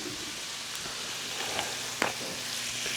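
Heavy whipping cream sizzles in a hot pan with melted butter and cheese for shrimp and grits, a steady close frying hiss with a few soft pops and stirring clicks.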